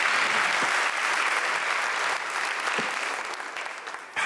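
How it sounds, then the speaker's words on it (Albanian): Studio audience applause on an Albanian television variety show, sustained dense clapping from a crowd that holds steady for several seconds before tapering slightly, with no talk over it. "Faleminderit shumë për duartrokitjet."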